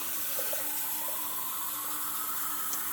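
Tap water runs steadily into a cup at a bathroom sink, a constant hissing, splashing stream without pauses.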